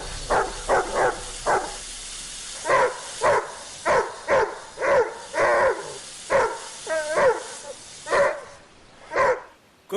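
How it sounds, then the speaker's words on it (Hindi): A dog barks repeatedly in short, evenly spaced yips and woofs, about sixteen barks over ten seconds, close and fairly loud, with no talk. "इस मनहूस कुत्ते को खामोश करवाए।"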